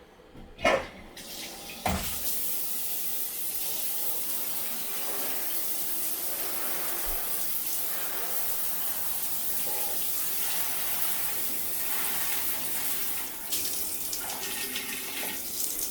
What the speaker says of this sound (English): we're going to take our shower head and just start washing off all this junk